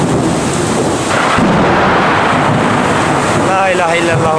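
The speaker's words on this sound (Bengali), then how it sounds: "খুব বৃষ্টি হচ্ছে ইনশাআল্লাহ" Heavy midnight rain in Dhaka during a hot spell pours as a loud, dense, unbroken roar with thunder rumbling beneath, and a voice briefly emerges near the end.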